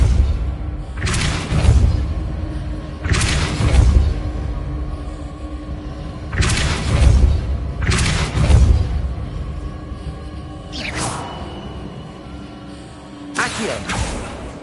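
Depulso force spells cast in Hogwarts Legacy, a series of heavy booming thuds with rumbling tails repeating every couple of seconds, loud and close, with no speech over them.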